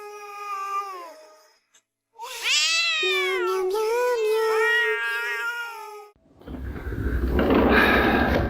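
Several long, rising and falling meows from cats, loud and close, followed by a burst of rough, noisy rumbling at the end.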